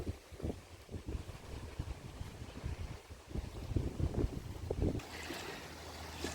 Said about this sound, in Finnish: Aika kova tuuli käy.